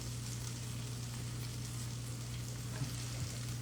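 Butter sizzles in a pan during preparation of steak fajitas and shrimp quesadillas, giving a steady, continuous hiss and crackle at moderate level with a constant low hum underneath and no talking.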